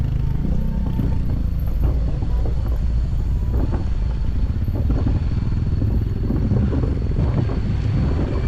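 A steady, loud low motorcycle engine rumble drones throughout, mixed with wind buffeting, running up close without any talking.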